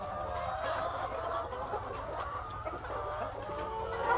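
Free-range chickens clucking and murmuring together on open ground, a steady chorus of overlapping clucks close by, with no speech over it.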